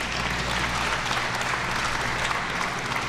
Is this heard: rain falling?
no